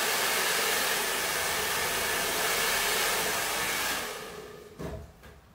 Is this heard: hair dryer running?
yes